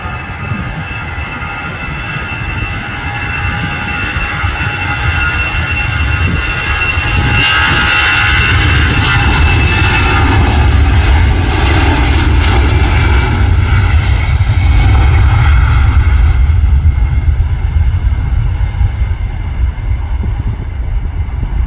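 A large airliner's engines roar close overhead at an airport viewing park near Manchester, a loud, steady, broad drone that swells and sweeps in pitch as the plane passes, with no talking.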